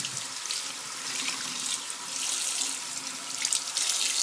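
Tap water runs steadily from a faucet into a sink to wet a cloth meant for cleaning glasses, a continuous splashing hiss heard close and alone with no talking.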